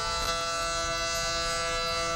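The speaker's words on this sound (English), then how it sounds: "the tornado sirens sound again in Greenback" Tornado sirens in Greenback, East Tennessee, hold a steady, sustained wail that runs without a break through the whole stretch, loud and continuous with no voices over it.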